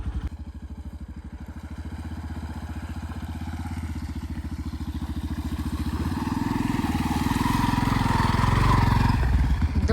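A motorcycle is started and ridden on a rural village road toward farm fields, its engine putting out a steady close chugging idle that grows louder and rises in pitch as it pulls away.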